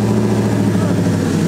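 Ford Mustang V8 engine running loud and steady just after a cold start, a deep continuous rumble close by with a high idle throughout.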